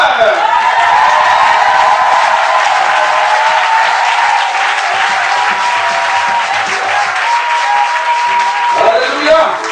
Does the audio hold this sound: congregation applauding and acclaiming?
yes